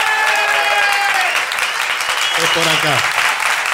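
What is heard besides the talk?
theater audience applause and ovation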